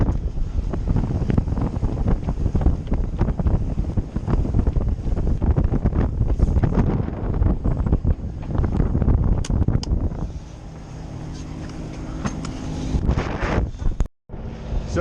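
Strong wind of about 35 knots buffets a sailboat motoring into wind, waves and tide on the Intracoastal Waterway, a loud continuous gusting roar across the microphone with sea noise beneath and a brief dropout near the end.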